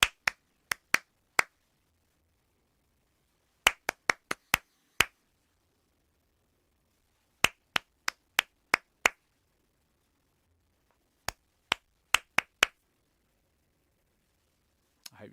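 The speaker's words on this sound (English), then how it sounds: "if I clap, don't clap this one back" Sharp, close hand claps in short rhythmic patterns of four or five, separated by pauses of silence, as in a clap-back concentration game played in a home singing session.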